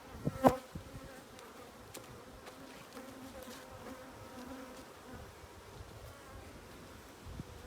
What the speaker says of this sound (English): Whole load of bees